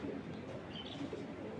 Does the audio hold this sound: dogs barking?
no